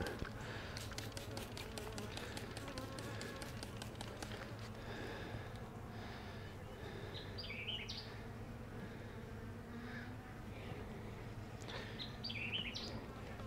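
Steady honey bee buzzing hums throughout, with a few faint bird chirps breaking in now and then; no talking.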